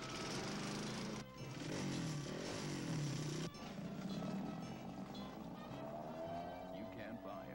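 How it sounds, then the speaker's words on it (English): In a Champion spark plug TV commercial, a car engine fails to start, cranking and sputtering in uneven bursts with abrupt cutoffs and shifting pitch, loud and close. "Engine isn't starting on cue."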